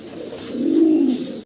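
A pair of young black dragon homer pigeons gives a single low, rolling coo that swells in the middle and fades, close and clear, ending abruptly.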